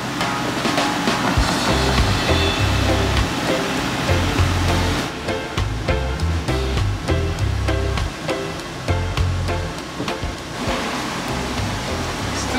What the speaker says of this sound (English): Just more waves.